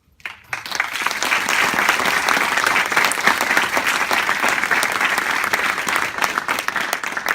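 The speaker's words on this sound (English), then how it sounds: "We applaud you." Audience applause at a speech at Liberty Science Center, starting abruptly after a brief silence and continuing as a loud, even roar of clapping from a large crowd.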